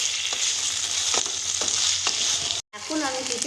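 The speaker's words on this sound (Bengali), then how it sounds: "মিশিয়ে নেব।" Tomato and ginger-garlic paste stirred in a frying pan, with a steady loud sizzle and a few spoon scrapes, then a brief cutoff before frying resumes.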